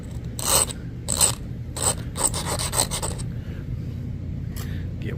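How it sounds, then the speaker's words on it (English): A coarse file rasps across a thin flint Martindale arrowhead in a series of quick, close scraping strokes, roughly one stroke every half second, before the filing stops and a low background hum remains. "Whole thing's so dang thin now that I think I can file that."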